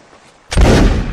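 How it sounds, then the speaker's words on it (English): A sharp musket-style gunshot bursts out in Mount and Blade Warband Napoleonic Wars battle gameplay, a single loud report with a booming tail after a quiet moment. "Shots coming in."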